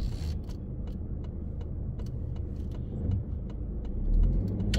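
A car idles at a roundabout entrance, then pulls forward into the circle; a steady low engine rumble under road noise, swelling slightly near the end as it accelerates, with faint clicks throughout.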